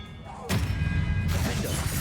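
An Expelliarmus spell is cast in Hogwarts Legacy during a boss fight: after a quiet start, a sudden loud magical burst hits and rushes on for over a second before fading into a lingering wash.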